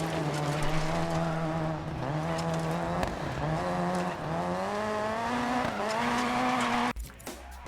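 A rally car engine in the racing game DiRT 4 revs hard and continuously, rising and falling through gear changes with tire noise, loud and close before ending abruptly.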